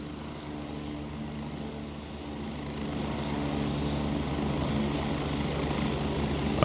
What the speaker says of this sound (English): Okay, this one's our chopper.